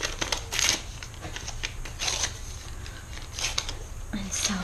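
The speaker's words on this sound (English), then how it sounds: "I'm gonna just tear them up" Papers being torn up by hand for a junk journal, with close rustling and ripping bursts over a faint background hiss, uneven in rhythm and moderate in loudness.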